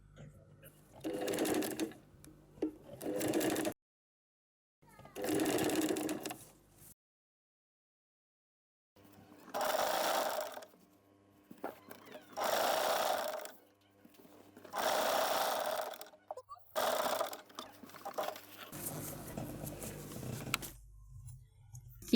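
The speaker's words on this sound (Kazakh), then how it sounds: "Сонда тістің түбінен тігіп шығады." A sewing machine stitches a zipper in close, loud bursts of rapid mechanical whirring, several runs separated by pauses, with a quiet stretch partway through.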